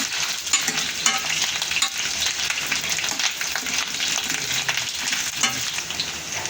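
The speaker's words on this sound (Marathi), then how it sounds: "हे बघा अशा पद्धतीनं फ्लावर तळायचा आहे आपल्याला" Cauliflower florets fry in hot oil in a pan with a steady, close crackling sizzle and occasional small pops. It keeps going without a break, and nobody speaks.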